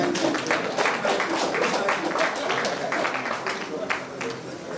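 A round of applause rises at an annual general meeting, steady clapping from a gathered audience filling the room for several seconds and slowly fading.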